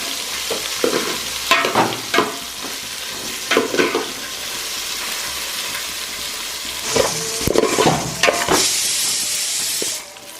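Onions and dried fenugreek leaves sizzle in a hot pan while a spoon stirs them in repeated scraping bursts, with a louder steamy hiss building near the end.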